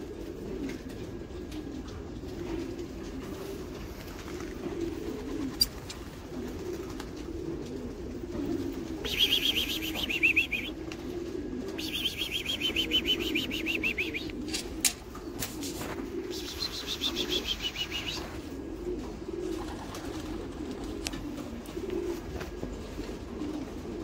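Racing pigeons coo steadily in a loft, a low continuous murmur of several birds, with occasional brief wing flutters and rustles breaking through over roughly twenty seconds; no one speaks.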